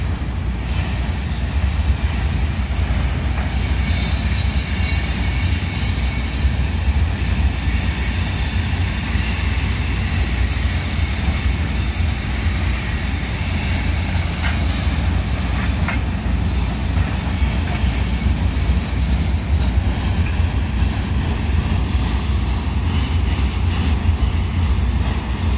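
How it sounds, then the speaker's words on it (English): A mixed manifest freight train rolls steadily past a trackside spot in Dallas, Texas, with a loud, continuous rumble and faint clatter of cars throughout. "I guess it ain't a military train. I guess it's a mixed manifest."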